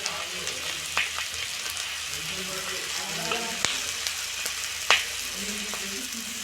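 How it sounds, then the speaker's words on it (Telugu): Onions frying in a pan for a village-style country chicken curry, a steady soft sizzle with a few sharp utensil clinks, muffled speech faintly underneath. "కొద్దిగా ఉల్లిపాయ కొంచెం వేగనిద్దామండి."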